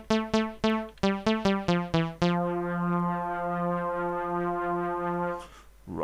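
Synthesizer notes from the Analog Times factory preset on the Triple OSC instrument in Elements: a run of about nine short, clean harmonic plucks, then one long sustained tone held for several seconds before fading.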